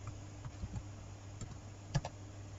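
Sparse keyboard taps while printf code is typed on a computer keyboard, a few soft clicks spread over a couple of seconds, with one sharper keystroke near the end over a steady low hum.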